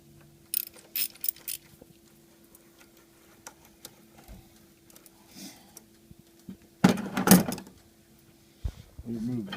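Ratchet with an 8mm socket loosening an air intake duct clamp on a Ford Expedition, a few brief bursts of quick clicking, loudest near the end, amid quiet handling noises and someone talking.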